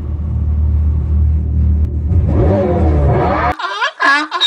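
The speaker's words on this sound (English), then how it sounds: "Our new exhaust system is the baddest thing on the planet" A 2024 Dodge Charger Hellcat SRT with a new exhaust system rumbles deep and loud, then revs up into a rising roar before cutting off abruptly, followed by a short shout.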